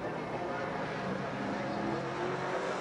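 NZ V8 Ute race cars, Ford Falcons among them, lapping Timaru Motor Raceway, a steady distant V8 engine roar with rising and falling revs and a commentator talking over it.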